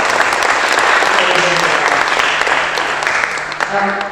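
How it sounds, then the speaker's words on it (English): An audience at a student panel event applauds steadily, a dense, loud wash of clapping that holds throughout and tapers slightly at the end, with a voice faintly underneath. "So round of applause for everybody for that."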